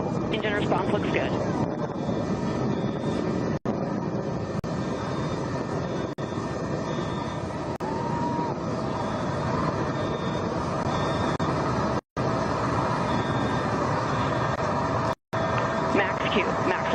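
Rocket engine of Blue Origin's New Shepard NS-31 during ascent, a steady broadband roar sustained throughout, with a commentator talking over it and a few brief dropouts.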